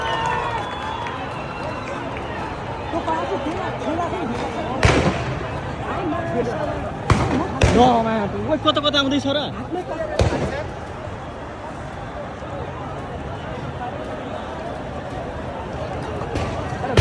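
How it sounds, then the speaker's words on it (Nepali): Gunshots during a protest at the parliament in Nepal: several sharp, loud cracks ring out at intervals over a noisy crowd, with people shouting and talking throughout. "फेरि बन्दुक चलेको आवाज एक्कासी सुनिन्छ"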